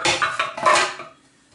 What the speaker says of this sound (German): ob die KitchenAid auch so was Kleines wie die Knoblauchzehe hier zerschrettern kann